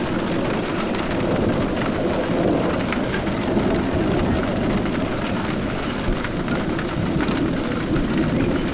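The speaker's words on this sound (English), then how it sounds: "Thunderstorms at sunset." Steady heavy rain pours throughout a sunset thunderstorm in northwest England, with low rumbling thunder rolling underneath, loud and continuous with no voices.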